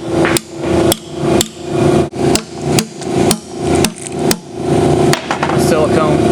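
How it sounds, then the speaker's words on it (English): A dull chisel hammered under a transmission pan to pry it off, about a dozen sharp metallic strikes in a steady rhythm, close and loud, with a voice talking over them. "You can take a chisel, a dull one,"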